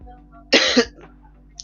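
A single close cough, a short harsh burst followed by a quick second catch, from a man with a cold and sore throat, set against a quiet room hum.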